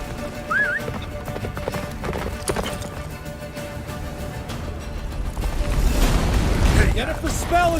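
Hooves of Roach, a horse in The Witcher 3, clip-clop at a gallop through a blizzard, steady rhythmic beats under music and game sound, with voices calling out over them.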